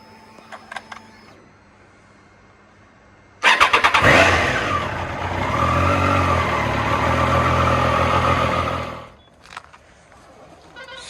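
A motorcycle engine starts up for an early-morning ride and settles into a loud, steady idle for about five seconds before cutting off, with brief clicks and handling noises before and after.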